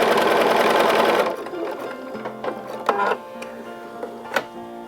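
Sewing machine stitching quilt pieces in a continuous chain, a loud steady whirring run for the first second and a half, then it stops and softer clicks, taps and handling noises follow.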